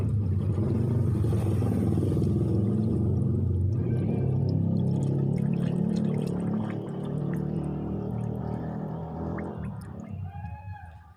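Coolant pours steadily into a Daihatsu Gran Max radiator opening close by, over a low, continuous engine rumble from an overheating engine that fades slightly near the end.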